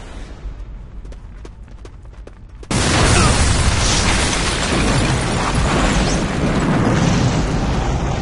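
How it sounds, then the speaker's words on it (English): In the video game Watchmen: The End Is Nigh, a few faint clicks are followed by a sudden loud blast that becomes a sustained roaring rumble, like a big explosion continuing to burn, with no speech. "That explosion came from the shower room."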